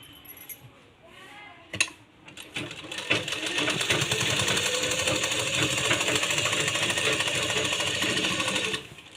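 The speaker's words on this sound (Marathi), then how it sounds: "आपण डबल शिलाई मारूयात" A sewing machine double-stitches a rabbit-style cap for a two-to-three-month-old baby: a few short clicks and thumps, then a steady, close, fast whir that runs for several seconds before stopping.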